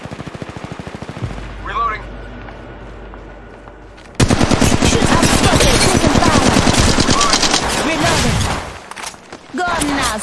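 Rapid automatic gunfire from a first-person shooter game, loud sustained bursts of machine-gun fire after a quieter stretch with faint speech, then a brief pause and more firing.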